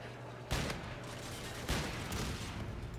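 Sniper rifle shots in a first-person shooter video game, two sharp loud cracks about a second apart ringing out over a steady background din.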